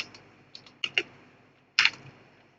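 Computer keyboard being typed on: a few light, sparse key clicks followed by a louder cluster of presses, close and otherwise quiet.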